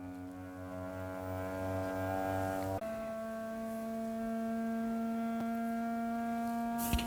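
A Bambu Lab P1S 3D printer gives a loud, steady mechanical hum with strong pure tones during calibration, shifting abruptly to a different pitch partway through, like a machine vibrating through test frequencies.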